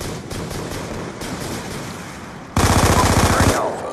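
Suppressed automatic gunfire in Black Ops 2 comes as a rapid, loud burst of evenly spaced shots, about a second long, standing out over a steady bed of game noise.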